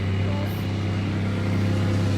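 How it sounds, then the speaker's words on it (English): A big truck drives past on a farm during a busy weekend of cattle sales, its steady low engine rumble and road noise continuous and fairly loud throughout. "Look at the big truck, Layton."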